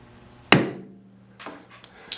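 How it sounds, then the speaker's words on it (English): A lead hammer smacks a heavy-duty Bison lathe chuck once, giving a loud, sharp, close impact that rings briefly and decays, followed by a few faint shop clicks and knocks. "I'm gonna lean on that and give it a smack with a lead hammer."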